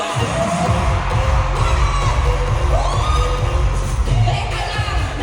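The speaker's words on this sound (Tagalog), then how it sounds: "kailangan mo marinig ang isang malakas na sigawan niyo!" A packed concert crowd shouts and cheers loudly in a dense, continuous roar, with scattered whoops and rising yells over a heavy low rumble.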